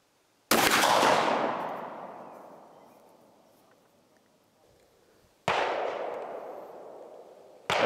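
Two loud, sharp rifle shots from a Savage 220 firing Hornady ammunition at about 33 yards, each with a long rolling echo decaying over several seconds, the second coming about five seconds after the first.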